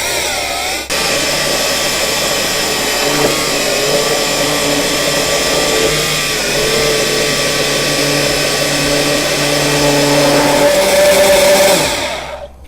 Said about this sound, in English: Say hello to my little friend, the Immersion blender.